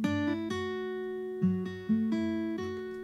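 Acoustic guitar plucked in clear sustained notes and chords, opened up with Ocean Way room reverb, several attacks ringing out with a warm natural room tail and no talking.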